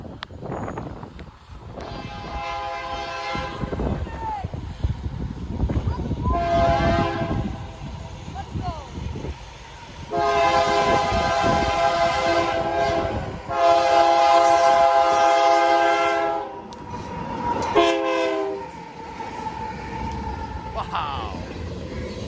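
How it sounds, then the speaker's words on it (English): A freight train on the Lake Avenue crossing in Blasdell, New York rumbles past close by and sounds its loud multi-tone horn in several long blasts, with a person talking over the passing cars. "So I'm only here for the B741, and that one has a nice horn."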